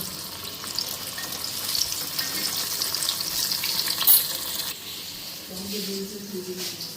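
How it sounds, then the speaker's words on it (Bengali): Eggplant slices and papad crackle and hiss as they fry in oil in a home kitchen, a continuous close sizzle with faint clinks near the end. "এদিকে বেগুন ভাজা পাপড় ভাজা বেগুন ভাজা হইতেছে"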